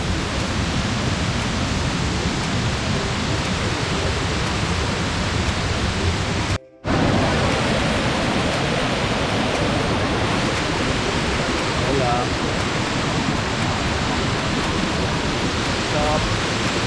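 A dense, continuous rushing roar comes from the waterfall at Lower Falls in Skagway, Alaska, loud and close, broken only by a brief cut partway through.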